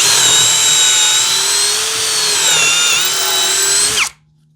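A Hanabi LJ2022 impact drill driver spins at high speed in drilling mode, giving a loud, steady high-pitched whine with slight pitch wobble that cuts off abruptly near the end, leaving near silence.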